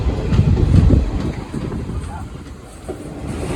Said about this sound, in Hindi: चलिए यहाँ से देखते हैं अपनी ट्रेन का डिपार्चर।